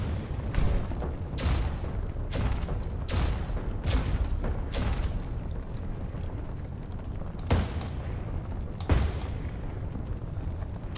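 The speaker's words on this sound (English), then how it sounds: "somebody's shooting at me" Cannon fire aimed at the player's airship in the game Cloud Pirates: a rapid string of six loud, booming shots, then a pause and two more separate blasts over a constant low rumble.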